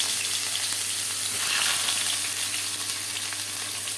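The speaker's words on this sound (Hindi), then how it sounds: "हमारा घी जो है गर्म हो चुका है, हम इसमें डालेंगे प्याज" Onions frying in hot ghee in a pan, giving a steady, loud, close sizzle that holds without a break and swells slightly partway through, with no voices.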